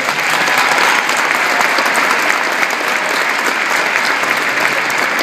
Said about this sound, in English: I think they earned a big round of applause,